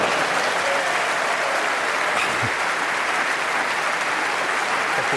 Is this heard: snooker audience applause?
yes